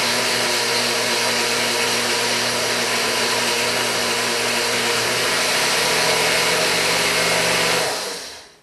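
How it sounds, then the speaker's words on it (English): Steady, loud whirring motor of a blender chopping cookie ingredients, running continuously for several seconds before cutting off abruptly at the end, with no talking. "blend on low speed until they're roughly chopped up. Increasing the speed as they get more chopped"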